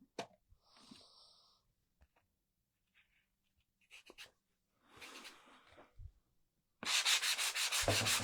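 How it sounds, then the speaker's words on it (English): A power sander runs against the top of a wooden sign in a sudden loud, steady burst at the end, after several quiet rubbing and handling noises and near-silent pauses. "Okay, so I am going to sand this."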